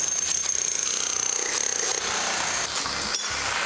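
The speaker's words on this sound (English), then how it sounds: "using that power jackhammer thing to get the wood floor up, and it was glued down for years and years." Power jackhammer chattering loudly as it lifts a glued-down wood floor during a home renovation, rapid close hammering that gives way to scraping noise.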